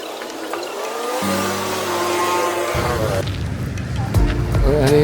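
A car drives through a Thai town near the Nan River, its engine droning steadily and swelling near the end, with a voice speaking over it.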